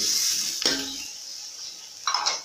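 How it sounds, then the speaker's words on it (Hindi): Carrots, green onions and capsicum are stir-fried in a pan for chicken fried rice, with a close hiss of sizzling and two quick scraping strokes of a utensil. "अब हम इन तमाम सब्जियों को थोड़ी देर फ्राई करेंगे।"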